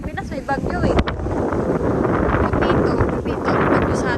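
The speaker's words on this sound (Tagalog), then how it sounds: "Lakas ng hangin, grabe oh." Strong wind buffeting the microphone outdoors, a loud continuous roaring rumble with gusty swells, while a person speaks over it.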